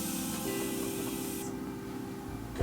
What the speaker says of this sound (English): Going to spray my face with my Morphe Continuous Setting Mist